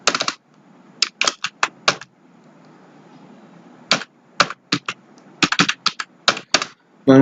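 Keys clack on a computer keyboard during a Bangla copy-paste data-entry job, in quick bursts of close, sharp strokes, with a short pause in the middle.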